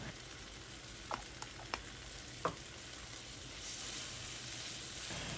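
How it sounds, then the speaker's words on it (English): Tomatoes and mixed vegetables sauté in a pan with a steady, soft sizzle throughout, broken by a few faint, brief utensil taps near the start. "Saute that for a few seconds."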